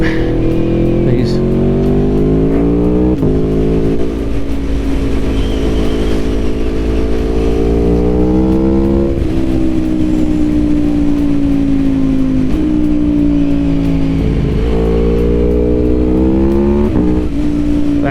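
A 2021 Aprilia Tuono V4 Factory motorcycle engine revs loudly and close up throughout, climbing repeatedly in pitch as the throttle is opened and dropping back between pulls.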